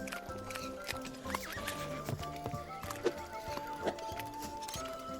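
A horse in the video game Repella Fella gives a soft whinny, with clip-clop hooves and occasional snorts in a quiet game setting, set against a steady musical background.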